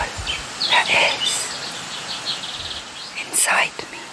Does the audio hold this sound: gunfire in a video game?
no